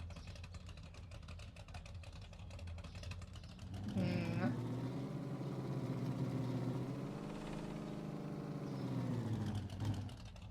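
A car engine in Supermarket Simulator starts up and settles into a steady, fairly quiet idle hum that holds for several seconds, with a low rising and falling tone.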